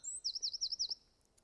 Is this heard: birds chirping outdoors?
yes